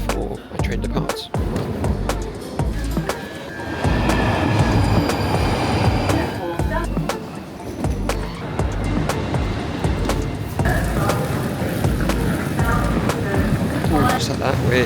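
A UK train runs on rails with steady rumble, rhythmic wheel clatter and occasional squeal, loud and close as if heard from inside a carriage.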